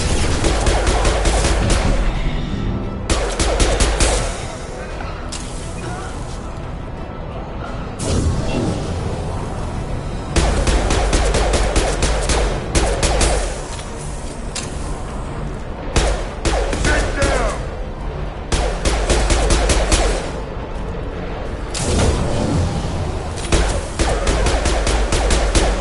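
Repeated rifle gunfire in the video game Mass Effect 2, loud bursts of shots that come back again and again across the clip, with short quieter gaps between volleys and game voices mixed in.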